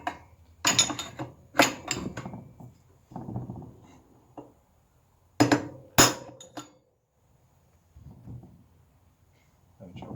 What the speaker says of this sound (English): Just going to use an appropriate drift and a hammer.